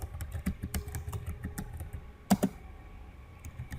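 Keys clatter on a computer keyboard in quick, uneven bursts of close taps, with one louder double stroke in the middle and a low hum beneath.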